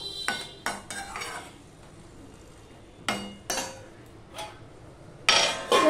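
A metal lid set onto a cooking pot of drumstick stems simmering in a little water, several distinct clanks and clinks spaced out over a few seconds, with a louder clatter at the end.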